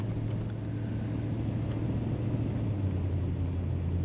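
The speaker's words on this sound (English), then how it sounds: "Just enough rumble to let you know that's a V8 under the hood." Low steady V8 rumble from a 1987 Chevrolet Monte Carlo SS Aerocoupe heard from inside while cruising, a constant deep engine drone with road noise, moderately loud and unchanging, with no talk.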